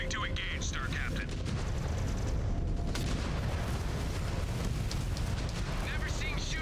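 Mech weapons firing in MechWarrior 5: Clans, heavy rumbling booms and blasts under continuous game voices and radio chatter.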